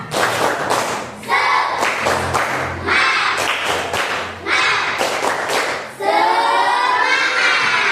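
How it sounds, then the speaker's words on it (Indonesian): A group in a classroom ice-breaker does the 'tepuk semangat' chant-clap: loud, rhythmic bursts of clapping in set patterns, alternating with voices chanting in unison between the claps. "coba kita ice breaking dulu biar tidak jenuh dan tidak ngantuk. Bisa? Coba. Tepuk semangat"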